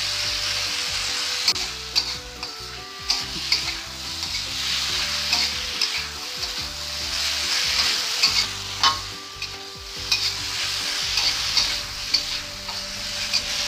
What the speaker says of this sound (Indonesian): Aduk ya, aduk cepat.